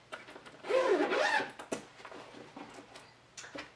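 One long zip pull on the mesh compartment in the top flap of a Delsey Paris Chatelet 24-inch hard spinner suitcase: a close rasping run lasting about a second, followed by soft handling taps and rustles.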